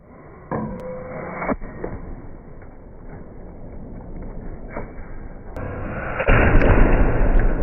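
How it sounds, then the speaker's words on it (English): Lighters crushed under a giant magnet pop and burst in a series of sharp bangs, with crunching and cracking between them and a louder, sustained blast building toward the end. "What an explosion!"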